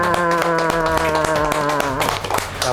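Children clap their hands together on cue at an event, sharp repeated claps mixed with loud background music.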